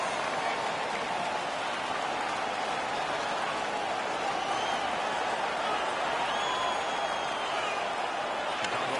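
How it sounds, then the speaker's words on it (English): Home arena crowd in the NHL 16 hockey video game roars and cheers continuously, a dense, steady wash of noise with no single voice standing out. "The home crowd is ecstatic. They're making all kinds of noise."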